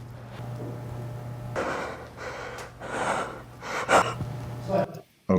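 A sharp startled gasp from a film scene, with several breathy bursts over a steady low hum and some faint background noise.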